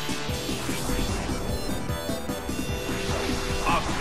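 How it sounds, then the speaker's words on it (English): In Pokémon Battle Revolution, an attack connects in a busy crash of impact noise and zinging effects, sustained and loud over a few seconds with a bright accent near the end. "It's a direct hit!"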